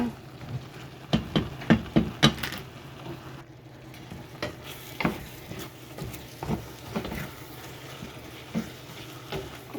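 Pansit noodles sizzle and crackle in a pan as they cook, with soft irregular pops and stirring scrapes over a steady low hiss, fairly close and moderately quiet.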